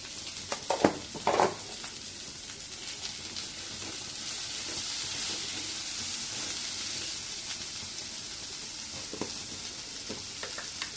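Garlic and small shallot onions sautéing in a pan with chili, a continuous close sizzle and hiss with a few spoon stirs and scrapes near the start and again toward the end.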